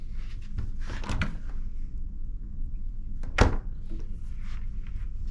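Mini fridge door in a balcony cabin aboard the cruise ship Anthem of the Seas, heard as a single sharp close thunk, preceded by softer handling clatter against a quiet cabin hum.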